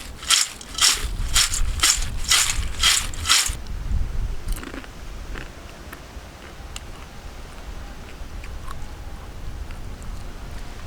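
Fried jackfruit chips being tossed with curry leaves, giving about half a dozen crisp, crunchy rattles at a steady rhythm near the start, then a quiet room with faint scattered clicks.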